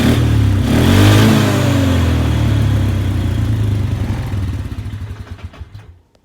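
A Polaris Sportsman 500 ATV engine runs loud and close, swelling in a rev early on before settling into a rough idle that fades with clattering pulses.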